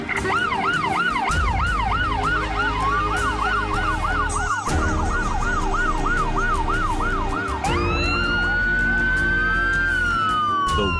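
Several emergency sirens wail loudly and continuously at night in West Texas, one yelping in fast rising-falling cycles while another sweeps slowly, over a low rumbling engine.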